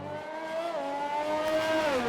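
A McLaren race car in a racing video game runs on track, its engine note a close, steady whine that rises and dips with gear changes.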